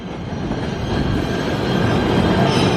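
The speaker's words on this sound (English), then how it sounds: "Pulling in on track 7, Jamaica." A commuter train rolls into the station at Jamaica on track 7, a loud close rumble of wheels and carriage noise that builds slightly as it slows.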